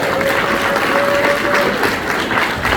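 Comedy club audience clapping at a stand-up show, a close, loud, even burst of applause lasting a few seconds with a faint tone running underneath.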